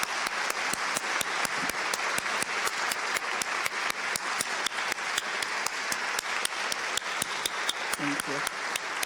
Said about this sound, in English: Please join me in giving them a great round of applause.